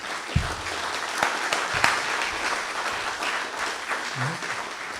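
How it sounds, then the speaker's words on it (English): Audience applause for a professor after a lecture on the history of Cave Hill, a steady moderate patter of clapping filling the room with a few sharper claps and faint murmuring underneath. "let's give Prof. another round of applause"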